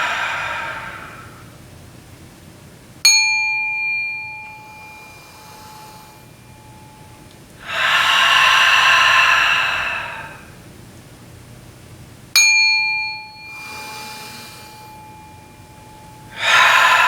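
A lecture audience takes a collective breath together as part of a ritual exercise, each breath a broad whooshing rush of many people. A struck bell rings clearly before the second breath, and the breaths repeat at steady intervals without any speech.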